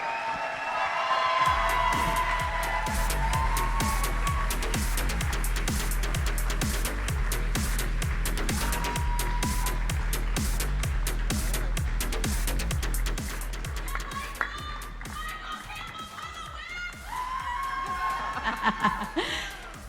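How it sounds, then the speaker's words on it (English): Crowd applause and cheering for dance teams at a stage show, a steady wash of clapping over thumping music that fades near the end, with whoops and scattered chatter rising afterward. "Please give a warm round of applause for our Season 9 dance teams"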